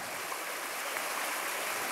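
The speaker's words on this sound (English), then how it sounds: "Water, spring pouring out of the hill." Spring water pours out of a hillside near a fishing hole, a steady dense rushing splash that stays constant and close throughout, with no voices.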